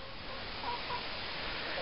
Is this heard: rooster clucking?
yes